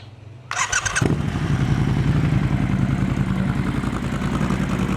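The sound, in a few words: Triumph Scrambler 1200 twin-engine motorcycle running, dual exhaust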